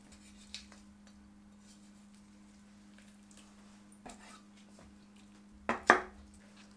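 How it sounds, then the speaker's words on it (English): A cleaver or heavy knife cuts raw chicken into pieces, mostly quiet, with a few scattered soft knocks and then two sharper, louder chops close together near the end. "Using a good knife or cleaver, separate the legs and wings from the chicken"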